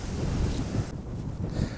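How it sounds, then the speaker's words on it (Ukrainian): Strong wind gusts across an open farm field beside soybean plots, a loud, steady buffeting roar on the microphone with low rumbling surges throughout. "Ой, який вітер."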